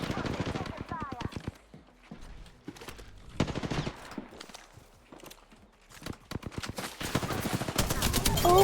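Rapid bursts of automatic gunfire and scattered single shots from a shooter video game, with a loud close volley at the start and more crackling fire building near the end, mixed with voices talking over the action.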